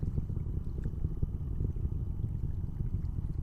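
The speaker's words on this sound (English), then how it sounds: "The sound of that water and the sound of the rocket are just so beautiful." A SpaceX Falcon 9 launch rumbles as a steady, dense low roar mixed with lapping water nearby, continuous and fairly loud with no voices.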